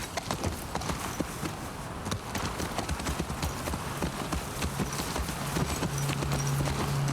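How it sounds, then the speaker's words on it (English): Horse hooves clip-clop at a steady walking pace in The Last of Us Part II, close and distinct, with a low ambient drone rising toward the end. "Shimmer seems like a perfectly adequate to large horse."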